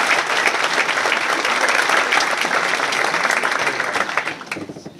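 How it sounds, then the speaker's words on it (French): A conference audience at a talk on lean and agile work gives a dense, even round of clapping for about four seconds, which thins out and fades away at the end. "je vous demande s'il vous plaît de l'applaudir."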